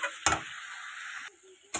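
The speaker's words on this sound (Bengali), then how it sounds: "এই যে আমার পেঁয়াজ কালি ভাজা পুরো হয়ে গেছে" Oil sizzles steadily in a pan while small fish fry, broken by a few sharp scraping stirs. No voices.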